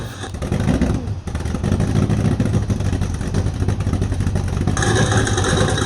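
A project car's engine runs after its first start, holding a loud, steady, rough idle with a slight dip in revs early and a rise in level near the end, with no talking.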